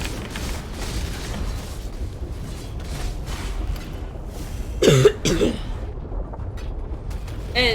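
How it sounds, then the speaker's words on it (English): A few harsh coughs burst out midway, close and loud, amid quieter background murmur and rustling. "How bad my coughing is."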